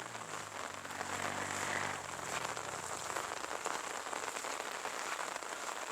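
Steady rain pours over open farm fields, a dense close hiss of drops hitting the ground, with a brief low rumble fading in the first two seconds; no voices.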